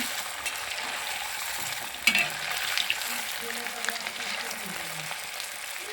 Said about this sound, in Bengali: আমার মা মিষ্টিগুলোকে ভেজে নিচ্ছে